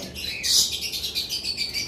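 A caged conure parrot gives a run of shrill squawking calls, close and loud, with one sharp burst early and repeated rasping notes after it, alone with no voices.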